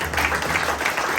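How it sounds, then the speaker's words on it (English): Steady applause from a talent show audience at a results night, a dense continuous wash of clapping that holds evenly throughout. "round of applause for guys"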